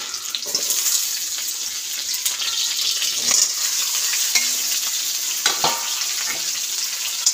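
Cauliflower and potatoes frying together in a pan give a steady close sizzle, broken by repeated scrapes and clatters of stirring throughout.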